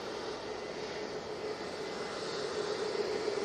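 An Ethiopian A350-900 airliner arrives at Manchester Airport with a steady, broad engine roar at moderate distance. It keeps up an even drone and grows slightly louder, with no talk heard.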